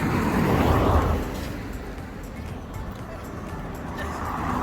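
Cars driving along a narrow Jamaican road with no sidewalk near Penfield River in the Blue Mountains, a loud close rumble that swells, fades and swells again, with voices talking underneath.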